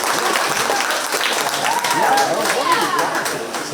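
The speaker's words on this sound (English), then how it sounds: "Let's give her a really big round of applause." A county fair 4-H sheep show crowd gives a round of applause for the champion junior, steady loud clapping from the stands with faint voices mixed in.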